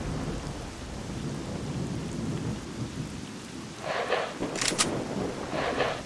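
Thunderstorm in the video game S.T.A.L.K.E.R.: Shadow of Chernobyl: steady heavy rain with a low rumbling roll of thunder, then a couple of sharp crackling thunder bursts near the end, no voices.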